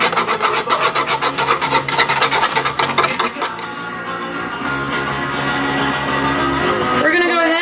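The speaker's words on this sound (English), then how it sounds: "Whisk, whisk, whisk." A whisk beats chocolate cake batter in a bowl with a fast, steady scraping rhythm, loud and close, the strokes blurring into a continuous rasp that eases toward the end, with no talk over it.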